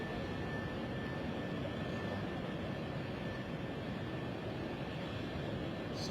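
At London City Airport, an aircraft engine test roars from a distance as a steady, broadband rumbling hum that stays constant throughout, heard faintly with no talk over it.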